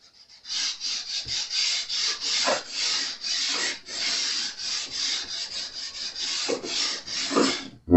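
A Jazz Bass guitar neck fretboard being sanded gives rhythmic raspy strokes, close and steady, repeating back and forth about every half second with no talk.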